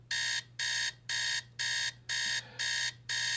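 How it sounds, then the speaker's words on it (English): An alarm clock beeps in loud, evenly spaced bursts, seven shrill electronic tones with short silent gaps between them, alone. "some people have an alarm clock that sounds like this"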